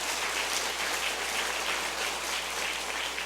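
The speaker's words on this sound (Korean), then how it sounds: "하나님께 영광의 박수 올립니다" A Korean church congregation gives an offering of applause to God during a sermon, a dense, even patter of clapping sustained at steady volume from start to finish.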